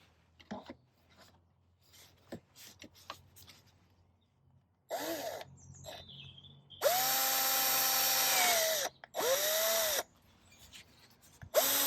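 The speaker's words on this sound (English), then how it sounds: "I can now remove the template and drill through the fender." A drill bores through a Yamaha Tracer 9 GT Plus motorcycle fender in two strong bursts, a rising whine with a rough grinding edge, preceded by scattered faint taps and scraping.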